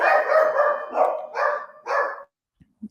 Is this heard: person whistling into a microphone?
no